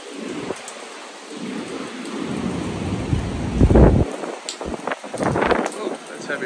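Heavy rain pours steadily during Tropical Storm Debby in August 2024, with a loud rumble of thunder and gusting wind; a voice speaks briefly amid the downpour.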